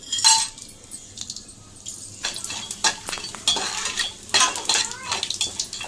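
Whole biryani spices fry in hot ghee in a pan while a metal spoon stirs and scrapes, with repeated close clinks and clatter over a soft, steady sizzle; no one speaks.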